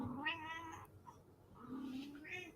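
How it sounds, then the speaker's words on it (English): A pet cat meows indoors, giving two drawn-out, fairly quiet cries with a short pause between them and no talking over them. "Hush, kitty cat."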